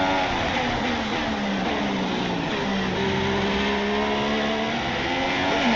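Several race car engines from a racing video game at the China 2016 round drone steadily, their pitches rising and falling as they pass and shift. The sound is continuous and fairly loud, with no talk.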